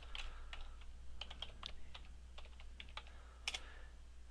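Typing a username and password on a computer keyboard, a steady run of quick, light key clicks with a couple of sharper taps near the end, close and alone.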